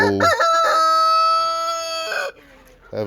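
A Buff Orpington or Cochin bantam rooster crows once up close, a loud drawn-out cock-a-doodle-doo that holds steady before trailing off, with a brief cluck at the start and end.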